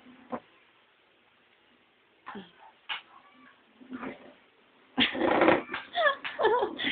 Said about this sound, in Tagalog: Nasa ilalim yung pusa.